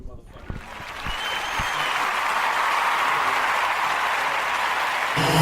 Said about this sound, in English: We're going to do an official motherfucking a round of applause for you